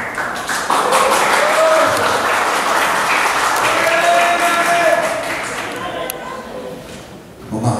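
Applause from the gathering at a church youth-fellowship opening service in Palembang, a dense, sustained round of clapping that carries for several seconds before thinning out toward the end, with some talking mixed in.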